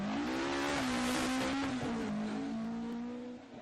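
A rally car at speed on a Jersey Rally stage gives a loud, sustained engine note that holds and shifts slightly in pitch, then fades a little toward the end, with no talking.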